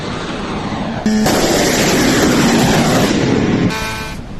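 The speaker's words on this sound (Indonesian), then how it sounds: "rentetan senjata dan ledakan terdengar di berbagai titik kota Erbil, Irak" Gunfire and blasts across the city of Erbil, Iraq, a loud dense burst of rapid crackling shots and booming noise lasting a few seconds, with horn-like tones at its start and end.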